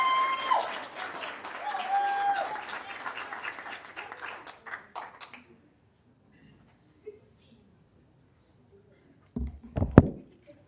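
Applause from the audience at a governing board meeting, a rush of many hands clapping with some voices mixed in, fading out after about five seconds into near silence, followed by a couple of loud thumps near the end.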